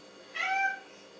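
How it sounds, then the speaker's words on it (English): A single drawn-out house cat meow rises clearly from a quiet indoor room, lasting under half a second, with no talk around it. "there's the cat meowing"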